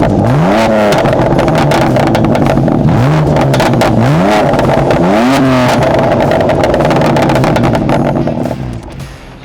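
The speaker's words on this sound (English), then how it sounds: "We got the Acroprofic exhaust. It's like an OEM kind of plus feel to the car." A BMW F8X with an aftermarket Akrapovic exhaust revs hard and close by, several sharp rising blips climbing in pitch one after another, then a rough idle that fades at the end.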